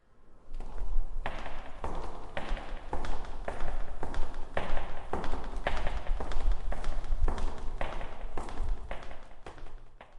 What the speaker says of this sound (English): A few nights later, I heard footsteps down there.